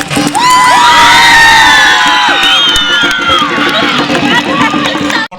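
An audience at a Bihu dance event cheers and shouts loudly close by, with high whoops and excited children's voices in a dense, sustained roar that stops abruptly at the end.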